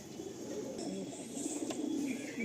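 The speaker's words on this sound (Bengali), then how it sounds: "এটা আমার চেন্নাই ব্রিডের পায়রা, একটা ফুলসিরা পায়রা জোড়া" A pair of Fulsira pigeons of the Chennai breed coo softly at close range, a low continuous burbling with faint background noise and no speech.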